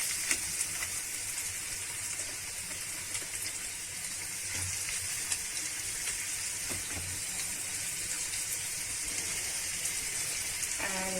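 Onion dropped into hot mustard oil sizzles and fries steadily at a moderate level, a dense crackling hiss that carries on throughout with no voices.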